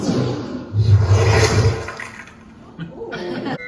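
Rushing water from an Augmenti wand spell effect at Universal Studios sprays loudly onto flowers for about two seconds, then fades, with a brief splash of water near the end.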